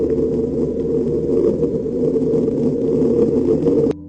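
A recording of Earth's Schumann resonance: a loud, steady, low buzzing drone with a faint crackling texture, continuous throughout and cutting off abruptly near the end.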